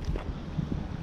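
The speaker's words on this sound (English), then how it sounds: "A little windy today" Low rumbling wind buffeting the microphone, gusty and uneven, with no voices.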